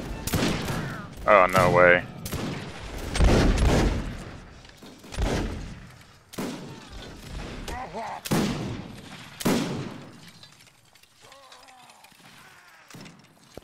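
Musket volleys in a Mount and Musket line battle, several loud, booming fusillades and scattered single shots at varying distances, with players talking over and between the gunfire.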